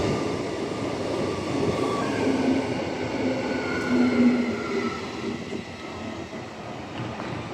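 A Transperth B-series electric train rolls past on the Perth line, a steady rumbling clatter of wheels on track with faint squealing tones, rising a little in the middle and then easing off.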